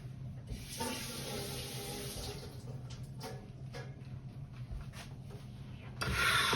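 Running tap water splashes steadily into a blender jug being rinsed, with faint rubbing and clinking, then grows louder and brighter near the end.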